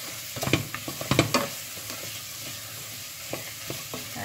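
Basmati rice being stirred as it fries in a pot, soft sizzling throughout with a cluster of scraping, clattering stirs early on and a few quieter ones later.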